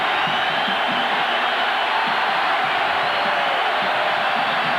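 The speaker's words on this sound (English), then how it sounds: "the crowd, who had kind of sat on their hands after halftime, standing up and trying to make some noise" A college football stadium crowd in 1994, Colorado Buffaloes against Kansas State, rising and roaring as a steady, broad wash of distant cheering with no break.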